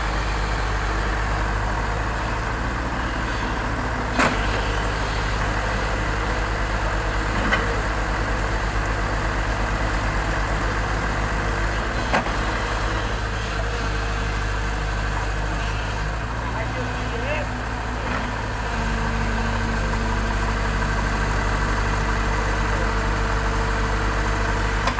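An excavator engine idles steadily in rainy conditions, a continuous low rumbling drone with faint mechanical vibration and a few small knocks, heard at moderate distance throughout.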